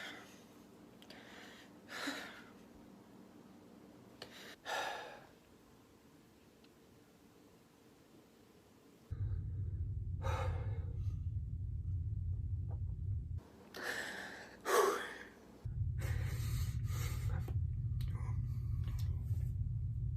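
A person breathes in heavy, gasping bursts, imitating crying. The breaths come in irregular, fairly close bursts over a low, steady rumble, with quiet gaps between them.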